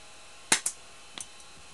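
A spring-powered airsoft pistol fires one sharp snapping shot, then a second crack follows quickly, and fainter clicks come a moment later, all close and on their own.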